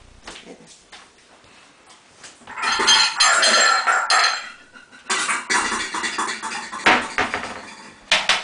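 Glass bowls and a jug clink and knock together while another bowl is fetched during a bentonite clay hair wash, with bursts of clattering that rise and fall over several seconds, nearby and fairly loud.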